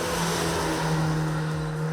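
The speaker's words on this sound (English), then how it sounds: "My test car sounds reasonably burly, especially in sport mode" A 2020 BMW M235i Gran Coupe's engine and exhaust in sport mode, a loud, steady burly drone with a strong low hum, as if revving or driving under load, with no talk.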